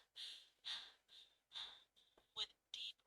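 A voice imitates heavy panting, with about seven deep, rhythmic breaths in quick succession, close and fairly loud.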